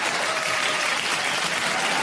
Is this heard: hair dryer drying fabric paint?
no